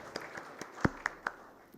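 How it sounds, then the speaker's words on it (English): A handful of scattered handclaps from a seminar audience at the Hazmat 2025 hazardous materials transportation panel, sparse and uneven with a few sharper claps standing out over a quiet room. "let's celebrate this shared vision at Hazmat 2025 with a big round of applause"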